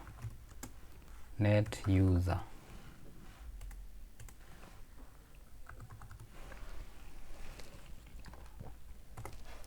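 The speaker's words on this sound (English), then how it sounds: "you just type net user" Typing a command on a computer keyboard for a Windows account task, a quick run of close key clicks and taps over about ten seconds, with a brief loud burst of voice early on.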